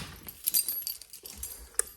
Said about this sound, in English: Okay, car keys.